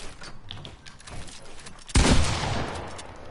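Mongrel Classic gun in Fortnite firing at metal, one sudden loud burst of shots with a metallic impact that cuts in after quiet rustling and then rings on briefly.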